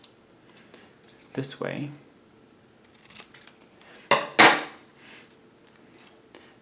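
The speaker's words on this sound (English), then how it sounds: "So what we can do is we can cut into little parts here, cut into 3 little parts" Scissors cutting a paper shape into parts, with a few crisp snips in two clusters, close and fairly loud, and a voice speaking briefly between them.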